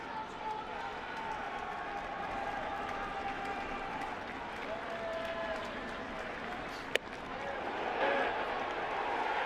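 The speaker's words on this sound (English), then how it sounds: "And you can hear the crowd, which is such a great sound." Stadium crowd at Yankee Stadium for the 2021 opening day game of the Toronto Blue Jays at the New York Yankees, a steady broad murmur and cheer with a sharp crack near the end, under commentary.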